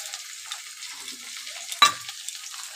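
Chopped carrot, onion, chili, tomato and capsicum fry in a pan with a soft, steady sizzle. A single sharp clink of a spatula against the pan comes near the middle.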